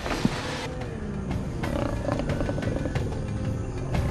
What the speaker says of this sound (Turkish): Aslan, bütün Afrika'nın en muhteşem yırtıcı hayvanı.